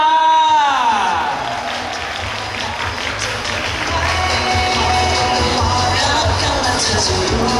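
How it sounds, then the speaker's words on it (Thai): A crowd at a press conference applauds and cheers as guests are welcomed, with sustained steady clapping and some whoops carrying on for several seconds after a voice at the start. "ขอเสียงปรบมือต้อนรับ"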